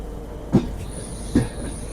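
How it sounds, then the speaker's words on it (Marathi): A train stands in a railway yard in Mumbai during rain: two sharp metallic clanks stand out over a steady low rumble, with a faint high whine drawn out in the background. "इकडे यार्डमध्ये ट्रेन उभी आहे, Mumbai central to Banaras special train"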